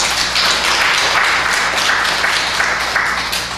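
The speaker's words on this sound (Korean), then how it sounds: "축하의 박수 드리겠습니다." Congratulatory applause from a church congregation during a Sunday worship service, a steady dense wash of many hands clapping close and loud for several seconds, with no talk over it.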